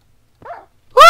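A dog in Minecraft gives a short, faint whimpering yelp, then a louder sharp bark right after, both close and heard alone without talk.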